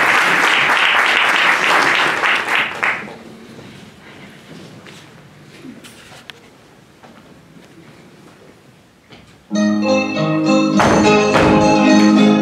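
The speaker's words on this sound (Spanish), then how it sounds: "fuerte el aplauso a Jaime de Peralti" Loud audience applause at a symphony orchestra concert opens the moment, then thins into scattered claps and room noise before the orchestra's music swells back in loudly.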